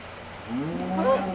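Cow mooing in Minecraft, a single short rising moo heard close and clear over a quiet background.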